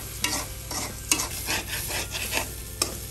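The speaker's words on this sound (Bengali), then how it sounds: "চুলার আঁচ কমিয়ে 1 থেকে 2 মিনিট চালটাকে নাড়াচাড়া দিয়ে নিব" Rice and lentils fry in a pot over low heat for a beef khichuri, a spoon scraping through them in repeated rhythmic strokes over a constant soft sizzle, close and with no talking.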